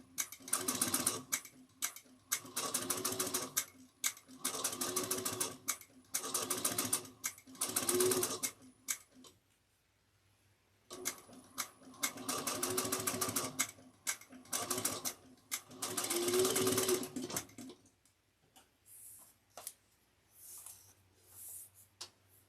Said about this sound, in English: remember, you're back stitching at the beginning and the end